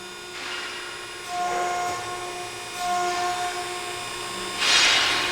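A used 176-ton, 12-foot Ermak CNC hydraulic press brake runs with a steady electric hum and whine that swells three times as the machine cycles, moderately loud and close.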